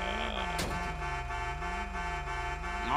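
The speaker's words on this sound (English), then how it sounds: "I'm coming, stop honking." A car horn honks in a video game, a steady loud tone that holds for the whole stretch over a low engine rumble. A short sharp knock breaks in early on.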